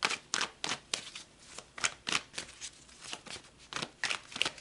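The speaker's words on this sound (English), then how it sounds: "All right, let's pull some more cards." Tarot cards pulled and shuffled from a deck, a run of quick crisp papery flicks and riffles repeating in an uneven rhythm, close and fairly quiet, with no talking.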